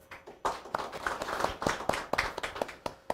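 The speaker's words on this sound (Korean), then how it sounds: "박수로 맞이해 주십시오." Scattered clapping from a small audience at the opening ceremony of a university architecture graduation exhibition, with a handful of distinct, uneven claps that sound close by and fairly light.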